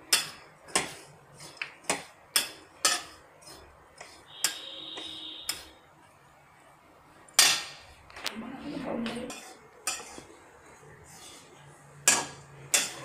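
Coconut laddoo mixture with nuts and cardamom powder being stirred in a pan off the heat, giving repeated sharp clinks and scrapes of a spoon against metal at an uneven rhythm, close and fairly clear, with no talking.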